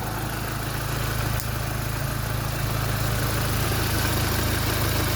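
A Mini Cooper R53 engine idles at close range after a timing chain replacement, holding a steady, even low rumble that runs unbroken throughout.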